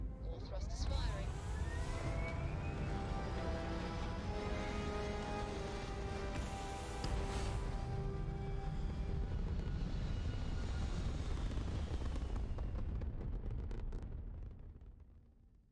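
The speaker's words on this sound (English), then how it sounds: "All thrusters firing." Spaceship thrusters fire at takeoff in Starfield, a loud sustained roaring rumble that swells and holds before tapering off at the end.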